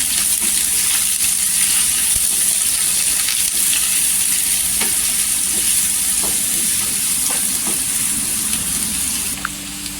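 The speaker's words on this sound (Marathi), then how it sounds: "सुकी मच्छी इथे तेलावर सॉफ्ट करून घ्यायची" Dried fish and onion fry in hot oil in a home kitchen, giving a steady, dense sizzle that stays loud and close for the whole stretch, with a few faint clicks from stirring and no talking.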